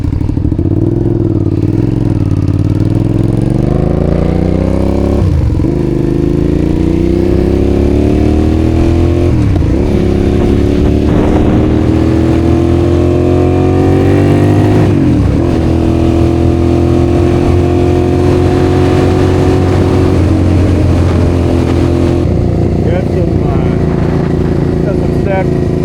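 Suzuki SV650 motorcycle engine running loud and close as the radiator warms, with a steady throbbing idle broken by several rising revs and dips in pitch; a voice talks over parts of it.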